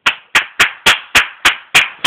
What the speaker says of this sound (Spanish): Sefi, por favor, ah, un aplauso.